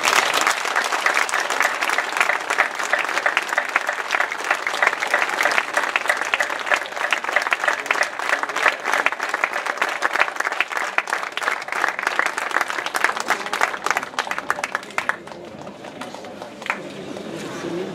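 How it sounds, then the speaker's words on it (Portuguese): Sustained applause from a ceremony audience fills the hall loudly and steadily for about fifteen seconds, then thins out into scattered claps. "seguramente todos merecemos um grande aplauso. Um aplauso para todos nós."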